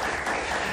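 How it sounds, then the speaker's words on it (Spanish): A TV studio audience applauds, a dense, even wash of clapping from many hands, heard only briefly at moderate loudness. "un aplauso para ellos"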